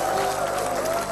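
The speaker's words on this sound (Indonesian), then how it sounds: "Sekali tepuk tangan dulu untuk Hudson." Studio audience applause for Hudson on an Indonesian TV talk show, a continuous wash of clapping at moderate level with a faint tonal hum underneath.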